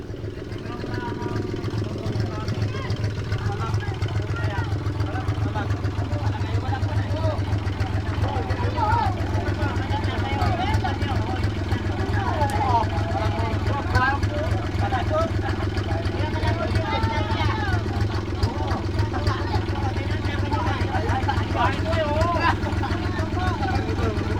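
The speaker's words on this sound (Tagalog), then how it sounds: "So ayan pinapanda nila yung makina." Engine of a wooden outrigger boat hit by a waterspout being started and run, a steady low rumbling drone that continues throughout, with people talking over it.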